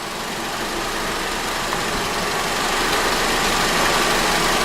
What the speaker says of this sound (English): we're going to allow the engine to run on, and it's already beginning to sound a little bit rough